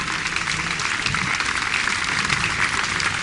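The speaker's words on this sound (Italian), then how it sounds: "Alle mie spalle avete la giuria internazionale, che vi prego di applaudire" Steady, dense applause from an audience welcoming the international jury at the opening ceremony of an aerobatics world championship in Foligno, holding an even level throughout with no pauses.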